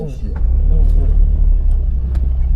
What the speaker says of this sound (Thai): เดี๋ยวขออนุญาตขับรถก่อน